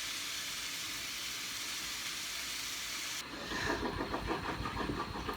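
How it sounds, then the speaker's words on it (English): A hand blender blitzes a vegan Goan curry sauce of tomato sauce and coconut milk, a steady dense whirring hiss that shifts to a rougher, pulsing churn partway through, close and continuous with no talk. "I've just blitzed my sauce with a hand blender."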